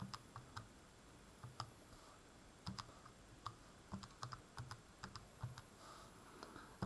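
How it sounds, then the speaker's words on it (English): Light plastic calculator key clicks tapped out in short irregular bursts, fairly close and quiet, with no one speaking. "we can work out the output value by typing it into our calculator"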